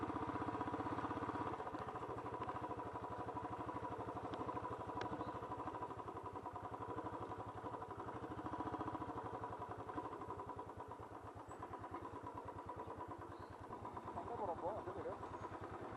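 A motorcycle labors uphill on a road toward Valparai, its engine droning steadily and faintly under people talking throughout.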